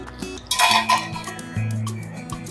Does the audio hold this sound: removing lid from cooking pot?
yes